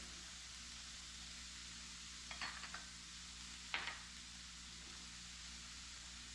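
Vegetables and peas cook down in a pan over a stove, a soft, faint steady sizzle with a few brief clinks and scrapes of stirring partway through.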